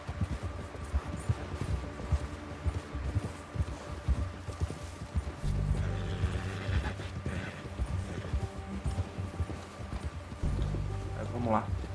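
Horse hooves clip-clopping in Red Dead Redemption 2, a steady stream of hoofbeats under continuous game ambience and music, with someone talking over it and a brief whinny-like sound.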